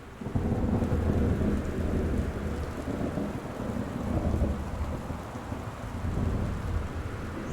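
Steady heavy rain with rumbling thunder during a stormy night in the Gone Home video game, a broad, continuous wash of downpour and low rolling rumbles, with no speech.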